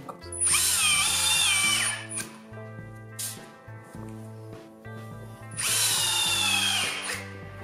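A power drill drives screws to fix a batten to the fascia board of a flat-roof Tendille garden shed, with two loud, close bursts of whining motor and squeal at the start and end, separated by quieter rattling handling and tapping.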